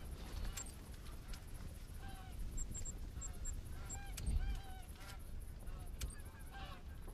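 Geese honking in the hunting game theHunter: Call of the Wild, a scattering of short nasal honks at moderate distance over steady outdoor ambience, some calls overlapping in a loose flock chatter.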